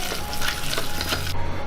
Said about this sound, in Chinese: 搅拌上劲